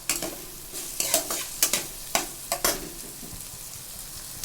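Lightly crushed whole garlic cloves frying in hot oil, with a soft steady sizzle and a few sharp stirring clatters from a spatula, close and alone.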